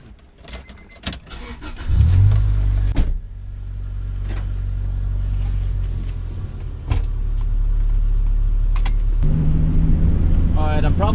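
A Honda Integra GSR starts up and idles with a low, steady engine rumble, close and continuous, after a few clicks and thumps from inside the car and a short burst of revving; a voice briefly speaks near the end.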